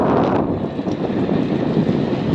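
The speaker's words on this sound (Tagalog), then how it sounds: "nindota yung hangin bugnaw" Strong wind blowing across the microphone, a steady roaring gust with low buffeting and no voices.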